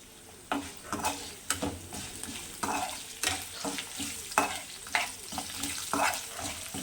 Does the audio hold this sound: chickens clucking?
no